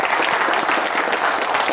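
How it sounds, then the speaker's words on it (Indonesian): Dense, steady applause from a university audience at a FISIP Unsri campus event, loud and continuous for the whole moment with no voices standing out. "tepuk tangan dulu"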